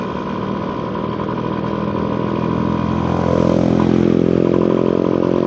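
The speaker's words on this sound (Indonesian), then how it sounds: "Jadi motor ini tuh mesinnya tuh udah ubahan." A modified Yamaha F1ZR two-stroke motorcycle with an altered clutch and gear ratios runs steadily nearby, a loud buzzing drone that swells slightly as the revs climb toward the end, with no speech.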